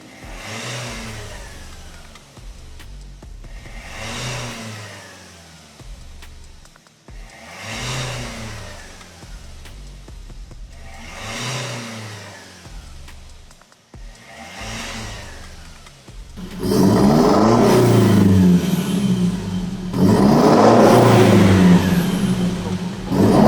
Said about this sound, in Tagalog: Comparison video tayo nung kaninang stock pa yung exhaust. Tapos nga nakapalit na yung exhaust using custom resonator tsaka Spitfire tips dito sa likod.